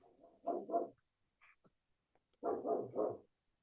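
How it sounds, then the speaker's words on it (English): Dogs barking indoors, two clusters of close, loud barks in quick pairs and triplets separated by a short quiet gap with faint small sounds. "Oh, somebody's dogs want to walk."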